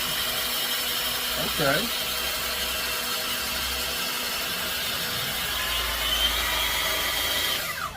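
A DeWalt 20V cordless belt sander runs continuously at a steady, loud, close whine with a droning hum, a short word spoken briefly over it.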